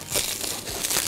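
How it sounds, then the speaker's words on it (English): A Lego fan mail package is torn open up close, giving about a second of loud, continuous crinkling and ripping of paper packaging. "I'm gonna just tear it like this."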